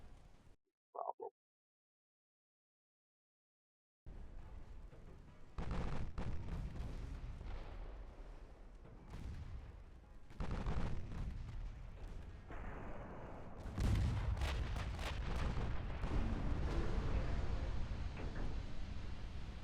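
Light cruisers firing their guns in the naval game Ultimate Admiral Dreadnoughts: a brief click, a moment of silence, then sustained rumbling salvos of booming gunfire with heavy low thuds that swell in waves.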